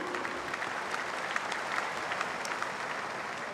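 Steady applause from an audience at an RMIT University graduation ceremony, a fairly soft, even wash of many hands clapping heard from a distance.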